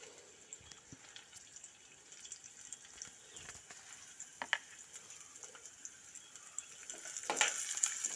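Onions sautéing in a pan for a jackfruit-seed dish, a faint, steady sizzle with scattered soft crackles and a few clinks of stirring, growing slightly louder near the end.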